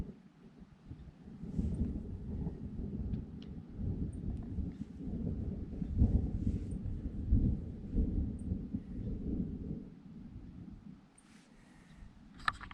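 Thunder from an approaching thunderstorm with lightning near a backcountry lake, heard as a long, deep, rolling rumble that swells and fades over several seconds, fairly loud and alone, with no talking.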